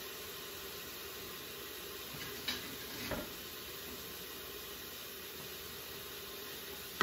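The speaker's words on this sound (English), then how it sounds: "you can hear the nice sizzle" Steady soft sizzling hiss of garlic in a hot pan, continuous and even, with a couple of brief clinks or stirs partway through; no voices.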